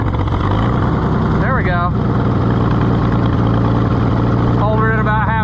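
An old Oliver 70 tractor engine runs steadily and loudly nearby with a deep, rough idle, while someone speaks briefly over the constant rumble.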